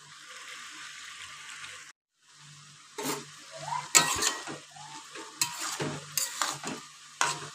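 Bottle gourd and shrimp cook in a pan with a low sizzle, and a utensil stirs them in several bursts of scraping. No one speaks.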